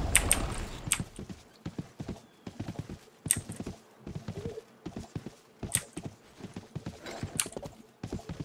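Horse hooves clip-clop in the video game Rift, a steady run of crisp, evenly spaced hoof strikes at moderate loudness, continuing throughout with faint background ambience.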